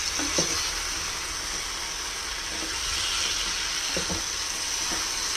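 Half a kilo of chicken sautés over a high flame, making an even, steady sizzling hiss with a few soft stirring knocks, close by and with no speech.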